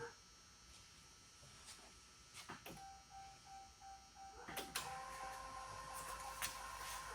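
An electric fuel pump cycles on a swapped 6.7 Cummins diesel in a second-gen Mega Cab truck, giving a steady whining hum with a few sharp clicks, fairly close and moderately loud over a quiet shop background.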